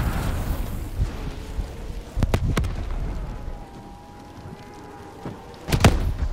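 Grenade blasts in the Call of Duty Black Ops 3 campaign: a muffled booming rumble with sharp thuds, two clusters of impacts, one early and one late, over a low in-game background drone.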